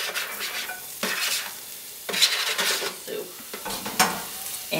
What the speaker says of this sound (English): we're going to fry up some garlic